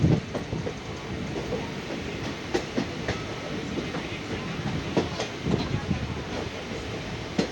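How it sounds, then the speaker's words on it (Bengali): A train travels through hilly country in Assam, its steady rumbling roll carrying a few faint rhythmic clacks over the whole stretch, close and moderately loud. "পাহাড়ের মাঝখান দিয়ে ট্রেনটা যাইতেছে।"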